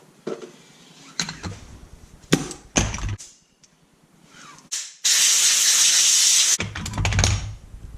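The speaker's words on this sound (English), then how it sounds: "I'm going to clean this off with some brake clean and then blow it dry" Brake cleaner hisses in short spray bursts onto a Yamaha Nytro snowmobile part, followed by a steady, loud blast of compressed air blowing it dry, then more brief sprays.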